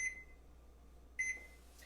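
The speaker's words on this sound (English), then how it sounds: "and set our timer for 30 minutes." Kitchen oven timer being set to 30 minutes for a baking cheesecake, giving two short, high electronic beeps about a second apart over quiet room hum.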